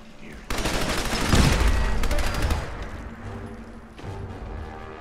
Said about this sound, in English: we end this video with the modded 100 round Tommy gun